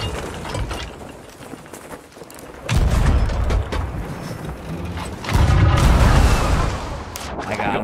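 Heavy booming cannon fire from a pirate ship battle in the Sea of Thieves video game, several loud blasts rolling over continuous ocean and game noise, close and dense.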